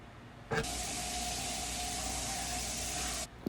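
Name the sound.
salmon pan frying in butter in a skillet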